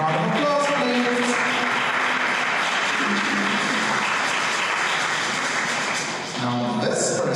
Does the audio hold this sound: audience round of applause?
yes